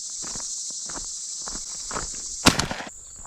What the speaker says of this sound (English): So we're gonna walk back.